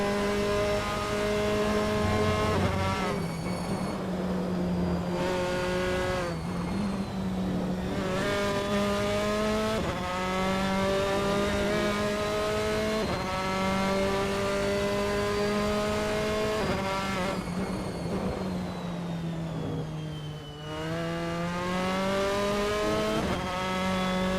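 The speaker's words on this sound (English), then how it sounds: "He's winding the car up now down the Rettilineo, he's got a clear track ahead of him." A Formula 4 race car in Assetto Corsa at Misano howls down the straight, engine climbing through repeated upshifts with brief dips between gears, loud and continuous throughout.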